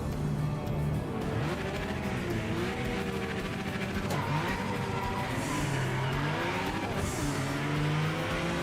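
Nissan 300ZX race car in the Project Motor Racing video game, engine revving and shifting continuously up and down through gears, with tire squeal and other cars nearby, loud and close.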